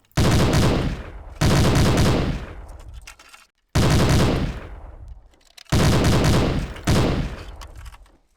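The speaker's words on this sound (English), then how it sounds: "This is the Browning machine gun." A Browning machine gun firing on a shooting range at wooden bullseye targets in the game Hidden & Dangerous, heard as four loud, sustained automatic bursts of rapid shots, each followed by a short decaying echo, with brief silent gaps between them.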